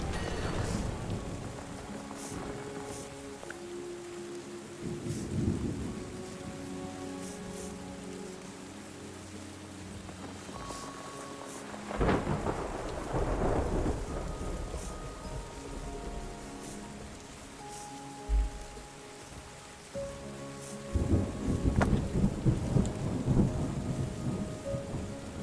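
Steady rainfall with repeated low thunder rumbles in the game Terra Nil, several rolls swelling and fading across a long stretch of storm, no voices over it.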